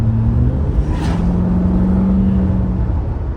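A Holden 5-litre V8 runs smoothly at idle just after a distributor change, a close, steady low rumble with an even hum and a single brief hiss partway through.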